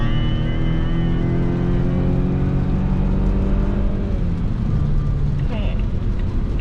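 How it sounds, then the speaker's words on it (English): A 2023 Volvo V60 Cross Country's transmission kicks down under spirited acceleration, the engine note climbing and droning loudly inside the cabin. "There's that kick down."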